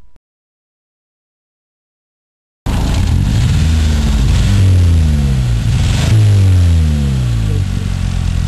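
A 2001 Hyundai Accent engine starts after a silent gap and revs loudly up and down a few times, close and unaccompanied by speech.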